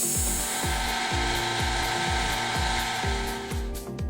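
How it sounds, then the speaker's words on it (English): A lathe cutting metal stock while facing it and forming a spigot gives a loud continuous grinding rasp with a regular pulsing rhythm, close and steady throughout. "Face the stock and then form a short spigot on that front face."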